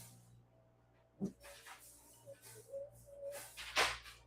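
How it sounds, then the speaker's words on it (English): A dog indoors barking at lawn work outside, a few separate sharp barks of moderate loudness with quiet gaps between them. "my dog's gonna go crazy because they might start barking because they're doing lawn work outside"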